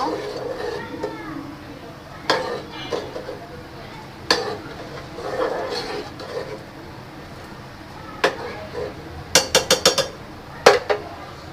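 Three ceramic tea cups with sugar, readied in a home kitchen for pouring tea, clink sharply and close by: scattered single knocks early, then a quick cluster of rapid clinks near the end, over low kitchen noise and murmuring voices.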